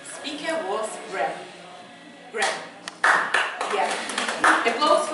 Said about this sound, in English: Applause for Graham.